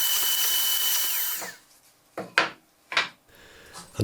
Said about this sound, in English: we can drill the shelf pin holes in the upright dividers